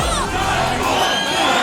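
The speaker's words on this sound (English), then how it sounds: "the crowd was chanting Wallace's nickname" A dense, loud fight crowd roars continuously, voices overlapping in a sustained chant-like din for fighter Wallace, known as Jackal.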